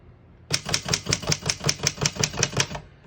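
Keys strike on a 1915 Smith-Corona folding portable typewriter, a quick even run of about a dozen sharp mechanical clacks starting abruptly after a brief quiet, close and alone.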